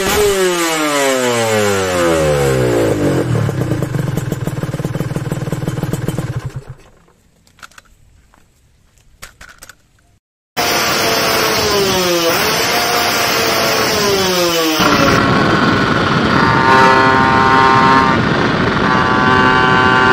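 A motorcycle engine fitted with a CPO PE 33 carburetor revs hard and close, its pitch climbing repeatedly. It drops into a brief near-silent lull, then roars back, revving and holding high revs.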